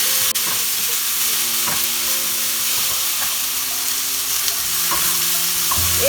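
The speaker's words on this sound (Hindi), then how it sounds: "एक मिनट फ्राई करना है वेजिटेबल्स हमें" Chopped green bell pepper and frozen green peas fry in a pan for a Hara Bhara kabab, giving a steady, close sizzle with occasional stirring scrapes and no talking.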